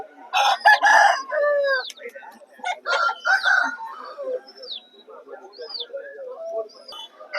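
A rooster crows several times at a busy Vijayawada market, its bright calls rising and falling close by, with clucking and chatter from other fowl and people talking in the background.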